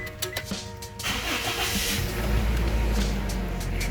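A 2007 Toyota Innova engine starts with a few sharp clicks and cranking, then settles into a loud, steady low rumble that stays close and fills the rest of the clip.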